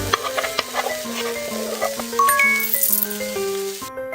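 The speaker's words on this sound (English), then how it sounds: "Stir and fry it." Cartoonish cooking-game effects for stirring and frying onions and garlic in a frying pan: a light sizzle under a string of plinking, chiming tones and rattly stirring clicks, bright and close, ending in a short burst of hiss.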